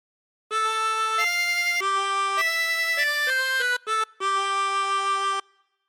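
A chromatic harmonica plays a short phrase of God Defend New Zealand, clear sustained reedy notes in a stepwise melody with brief gaps near the end, solo and close.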